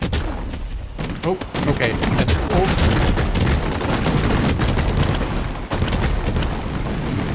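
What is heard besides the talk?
fireworks exploding in the Fireworks Mania video game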